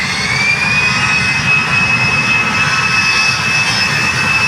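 A loud, steady jet engine roar at an airport, with a thin rising whine running through the continuous rumble and no voices.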